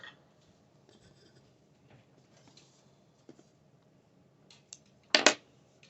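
Scissors snip through yarn for a baby blanket fringe in one quick, sharp double cut close by, after quiet rustling of handled yarn.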